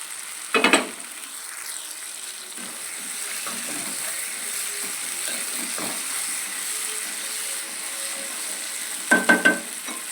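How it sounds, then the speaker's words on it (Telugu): Soaked prawns in tomato masala in a pan: a soft, steady sizzle and hiss throughout, with short clattering scrapes of a spoon or lid near the start and again near the end. "ఇప్పుడు మనం ముందుగా నానబెట్టుకున్న రొయ్యల్ని"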